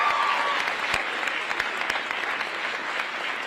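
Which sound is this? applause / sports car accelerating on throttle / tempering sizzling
applause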